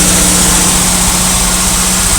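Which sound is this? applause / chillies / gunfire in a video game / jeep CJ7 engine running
jeep CJ7 engine running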